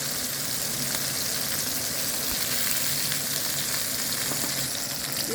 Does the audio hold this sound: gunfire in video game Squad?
no